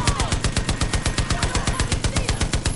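Rapid, steady bursts of automatic gunfire from enemies in the video game Far Cry New Dawn, loud and close, firing continuously in a fast even rhythm throughout.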